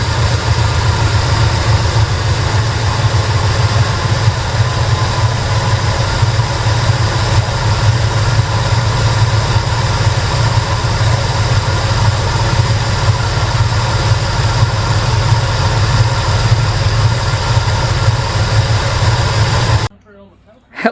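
A classic Chevy Squarebody wrecker truck's engine runs steadily at a loud, low, even rumble close by for about twenty seconds, then cuts off abruptly near the end.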